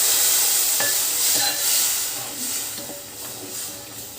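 Water poured into frying masala for mutton liver fry, producing a loud hiss and burst of steam that gradually settles, with a few scraping stirs of a spoon in the pan.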